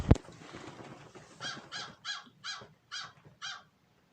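A crow gives a run of six harsh, evenly spaced caws after a sharp knock at the start, fairly close and clear against a quiet outdoor background.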